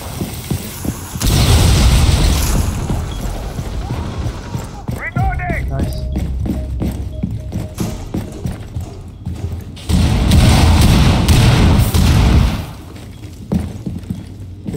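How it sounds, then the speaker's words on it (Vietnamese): Gunfire in the video game Rainbow Six Siege, loud sharp bursts and booming shots in rapid clusters, with players talking over the action. "Nghe tiếng súng từ nó bắn rồi."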